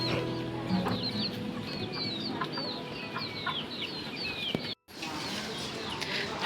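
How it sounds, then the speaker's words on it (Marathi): Village chickens and a rooster clucking outdoors in a steady stream of short, overlapping calls at moderate distance, with a brief cut near the end. "या गावच्या कोंबड्या."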